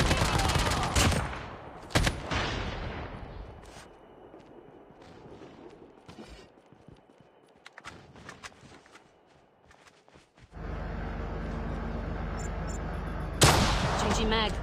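Bursts of automatic gunfire and single shots in the mobile battle royale game Call of Duty Mobile, loud and close in clusters, with footsteps and quieter gaps between, then a sustained roar of firing near the end.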